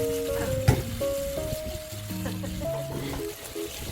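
Doribaengbaengi fish simmer in a pan over high heat with a steady, close sizzle and bubbling, plus one sharp clink of a utensil near the start.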